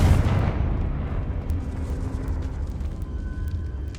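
A Confringo blasting spell goes off in Hogwarts Legacy, a loud, dense rumbling explosion that hits hard at the start and then trails off into a long crackling decay.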